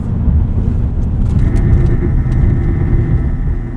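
A 2024 Toyota Prius Limited AWD pulls hard from a standstill toward 60 mph in sport mode, its steady low road and drivetrain rumble holding loud and close for the whole stretch, heard from inside the cabin.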